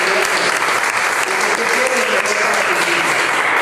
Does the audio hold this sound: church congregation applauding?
yes